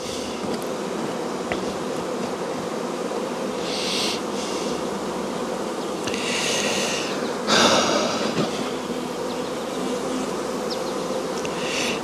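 Honeybees swarm around a beekeeper in a dense, continuous buzzing drone that stays loud and close, with occasional brief rustles.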